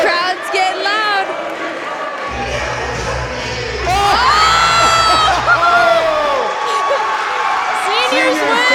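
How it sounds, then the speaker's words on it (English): Loud crowd of students cheering, shouting and whooping at a school Thanksgiving assembly, with juniors and seniors competing, a dense roar of many voices swelling and rising through the passage alongside some speech. "crowd's getting loud."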